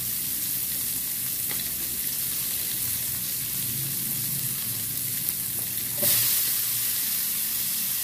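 Onion, garlic and tomato sautéing in a little leftover oil, a dense continuous sizzle heard close up, with a brief clack of a utensil near the end.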